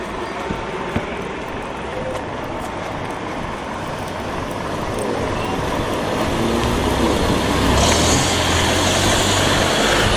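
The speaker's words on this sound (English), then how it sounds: "This road isn't half busy with traffic." Busy road traffic in Darnall, Sheffield, with cars and heavier vehicles passing in a steady broadband rumble that grows louder toward the end as a vehicle comes close.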